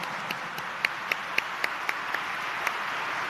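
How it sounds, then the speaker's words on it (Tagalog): At the outdoor fiesta of the Black Nazarene, a large crowd along Quezon Boulevard applauds in a steady, distant wash of clapping, with a few sharp, louder claps standing out at irregular intervals. "Palakpakan natin ang Poong Jesus Nazareno."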